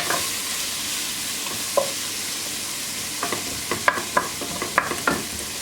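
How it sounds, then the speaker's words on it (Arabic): Red onion frying in a pan and being stirred, a soft steady sizzle with scattered sharp scrapes and taps of the utensil growing more frequent toward the end. "اي نوع بصل، بس انا اختاريت البصل الاحمر. اخليه يذبل بس يعني يستوي شوية"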